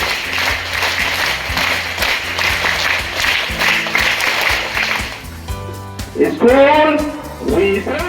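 Schoolgirls at a government school in Bihar clap together in a steady scout-guide rhythm, a dense, loud patter of many hands, breaking off as a voice speaks over the end.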